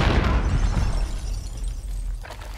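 A grenade explodes in a first-person shooter video game, a loud booming burst at the start that decays into a rumbling tail, followed by a faint secondary pop near the end.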